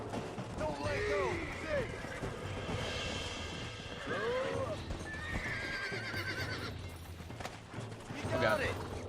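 A wild horse in Red Dead Redemption whinnies and neighs several times over galloping hooves and game sounds, while a player talks throughout.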